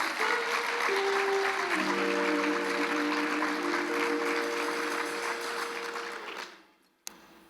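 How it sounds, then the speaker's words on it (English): Audience applause for a band at a community leadership event fills the room as a dense, steady wash, with sustained musical tones underneath, before fading out near the end. "Please give them a big round of applause"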